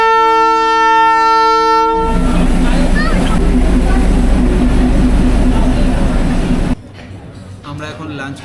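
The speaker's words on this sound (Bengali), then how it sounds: "আর এটা ছিল আমাদের ট্রেন" Darjeeling toy train at the station: a sustained horn blast opens, then a deep engine rumble and rolling wagon clatter continue loudly nearby before dropping off abruptly near the end.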